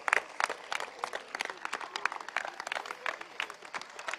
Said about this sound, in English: please give us a big applause for this great guy